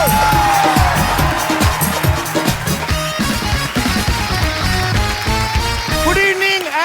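A studio audience on The Kapil Sharma Show applauds and cheers loudly for a singer and his wife, the clapping and whoops mixed with upbeat music throughout.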